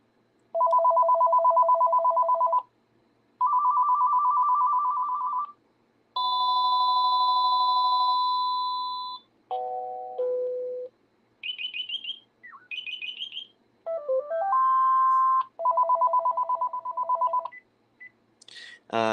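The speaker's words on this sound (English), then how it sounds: "if you want to hear the ringtones, I'll give you the ringtones" A home cordless phone system plays through a series of different electronic ringtones one after another, each a loud, clear, melodic pattern separated by short pauses, with no talking.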